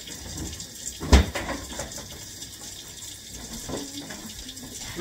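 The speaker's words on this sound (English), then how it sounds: "look at that, the sound of water is so relaxing and soothing to the soul" Water runs from a kitchen tap while rice is being prepared, a steady close rush with a sharp splash near the start and fluctuating flow.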